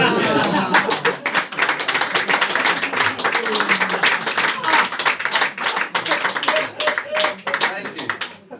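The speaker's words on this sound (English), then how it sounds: "your applause has made an old man very happy" Audience applause after a card magic trick at a live comedy magic show: dense, sustained clapping from a crowd, steady and loud throughout with a few sharper individual claps standing out.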